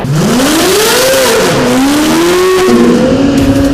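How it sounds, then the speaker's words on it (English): A Pro 2 short course off-road racing truck of about 800 horsepower, weighing 4,300 pounds, revs loudly up close, its engine pitch climbing, dipping and climbing again through gear changes as it heads from a warehouse onto dirt. "This is a Pro 2 truck which races short course off-road racing."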